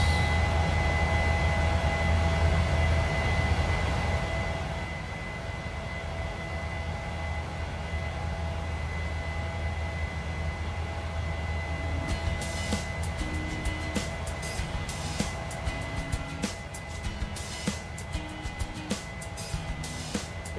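Simulated airliner departing Dallas Love Field in Microsoft Flight Simulator, a steady broadband jet engine roar with tonal whine, swelling slightly at first then settling into a constant drone with faint clicking cabin sounds.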